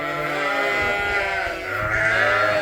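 A sheep bleats loudly and close by, a sustained wavering cry that rises again after a brief dip, with no other sounds around it.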